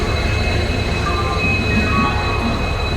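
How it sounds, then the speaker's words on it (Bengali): An express train pulling into a platform at a large railway station, a loud steady rumble of coaches rolling past with faint high squeals from the wheels and no talk. "হাওড়া এসএমবিপি এক্সপ্রেস ঢুকছে"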